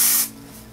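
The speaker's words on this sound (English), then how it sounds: "So now is when I'm gonna come in with my dry texture spray" One short, loud burst of dry texture hair spray hisses from an aerosol can close by, cutting off sharply after a fraction of a second and leaving low room hum.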